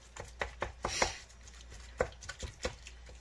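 A utensil chops up hamburger meat in a pan, about ten sharp, close knocks in an uneven rhythm over a quiet background.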